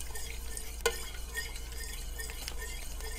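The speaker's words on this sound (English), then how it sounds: "As you stir, what you don't want is for this to clump up" A spoon stirs pectin into a pot of blood orange marmalade in a Maine kitchen. The scraping and swirling is steady and close, with one sharper knock against the pot near the start.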